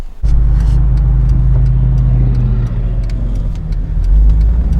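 A 1998–2006 Jeep TJ drives along a road at a steady pace, its engine a loud, continuous low drone with road noise and a slight swell near the end, heard from inside.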